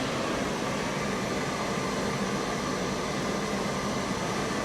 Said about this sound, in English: Fan is at max.